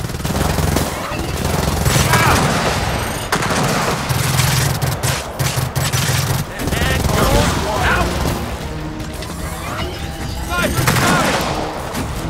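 Gears of War 4 gunfire crackles in fast, repeated bursts throughout a busy battle mix, with voices talking over the shooting.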